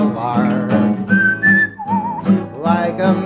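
A person whistles a short, clear, wavering melody between lines of a gentle sung tune, with the singing voice heard before and after the whistled notes.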